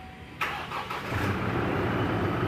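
Chevrolet Trailblazer engine starting: a sharp crank catches and settles into a steady, fairly loud idle close by, with no talking.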